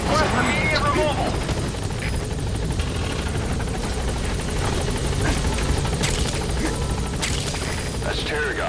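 A support helicopter in Metal Gear Solid 5 arrives with a loud, steady rotor thrum and engine roar that fills the clip, with occasional sharp in-game clanks and bangs over the top.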